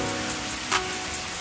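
Rain falls steadily over a new-build construction site by a lake, a dense, even hiss throughout with a faint low hum underneath and one brief brighter tick partway through.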